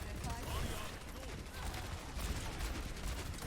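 Dense, continuous gunfire fills a chaotic Overwatch match on the Anubis map, with rapid shots and a turret firing over a busy game mix while a commentator talks throughout.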